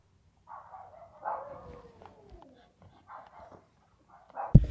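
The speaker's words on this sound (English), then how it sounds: "You hear those dogs, they're just going wild on the inside." Dogs inside a house bark and whimper in scattered bursts behind a door during a police knock, muffled and moderately distant, ending in a loud sharp thud.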